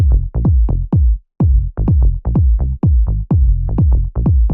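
A minimal house bass line quantized rigidly to the grid: loud, punchy low notes repeat in a steady, mechanical rhythm with one brief gap, with no swing and no voices.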